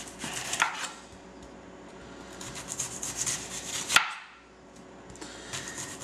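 A knife slices an onion very thin on a board, a quiet series of rough, rasping cuts with a sharp knock near the middle, close by with no talking.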